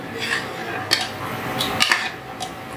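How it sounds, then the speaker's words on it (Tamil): A ladle stirs buttermilk in a metal vessel, giving a few light clinks and scrapes spread over a few seconds, close and fairly quiet. "கரண்டியில் வச்சு கிண்டுறப்ப அது நல்லா கடைஞ்சிரும் பாருங்களேன்"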